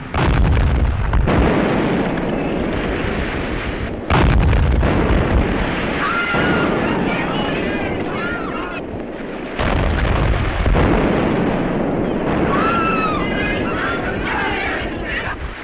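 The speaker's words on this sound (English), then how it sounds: "There's firing round that headland." Naval gunfire and explosions at sea: loud, booming blasts strike about three times, each followed by a long rolling rumble, with faint shouting voices under the din.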